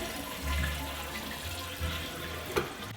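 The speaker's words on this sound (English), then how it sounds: "Now we're gonna try out the flush and make sure that the length is okay." A household toilet flushes after its flush handle has been replaced: a low rushing surge of water, then gurgling and refilling, with a small knock near the end and no talking.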